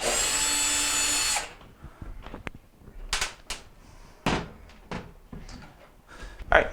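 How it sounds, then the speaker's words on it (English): A power screwdriver whirs steadily to back out Phillips screws from a GE dryer panel, then stops. Several clicks and knocks of handling the parts follow close by, with no talking. "I'm going to go ahead and remove these 2 Phillips screws here."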